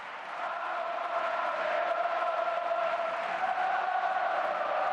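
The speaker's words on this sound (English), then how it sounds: "that opportunity bringing the crowd to life here at the Ramon Sanchez-Pizjuan" A football crowd at the Ramon Sanchez-Pizjuan stadium roars in a steady, dense swell for Sevilla against Barcelona, filling the clip with continuous massed voices and no breaks.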